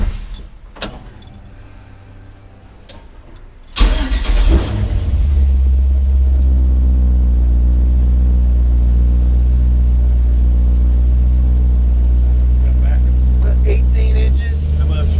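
A Chevy truck engine cranks over and catches, then settles into a steady, loud, rumbling idle close by that runs to the end.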